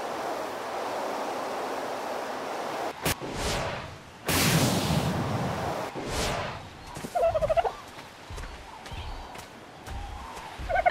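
Dodo birds in a prehistoric park-building video game give gobbling, turkey-like calls, with bursts of surf-like whooshing noise and short clucking notes scattered through the stretch.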